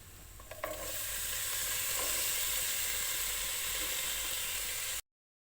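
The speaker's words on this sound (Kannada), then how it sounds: "ಈಗ ಕೊನೆಯದಾಗಿ ನಾನು ಕಾರ್ನ ಬೇಯಿಸಿಟ್ಕೊಂಡಿದ್ನಲ್ಲ, ಸೊ ಅದನ್ನು ಹಾಕ್ತಾಯಿದ್ದೀನಿ" Boiled sweet corn tips into a pan of hot masala, setting off a sharp clatter and then a loud, steady sizzle that fills the pan until it cuts off abruptly near the end.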